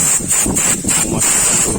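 Compressed air blasts clean an oil skimmer strainer from a XYBEX Purifier Plus, a loud steady hiss with a few pulsing bursts, close to the microphone and with no talking.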